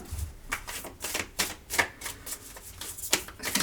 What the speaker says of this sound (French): je vais les remélanger comme ça pour ne pas qu'elles ressortent